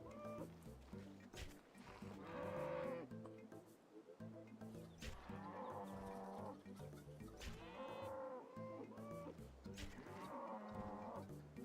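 Cattle in RuneScape 3 moo repeatedly, with several drawn-out lowing calls spaced a few seconds apart over a soft game backdrop.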